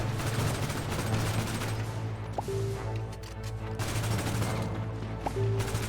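Rapid gunfire crackles through a GTA 5 shootout, dense bursts repeating over a steady low rumble with a couple of brief tonal beeps in the mix.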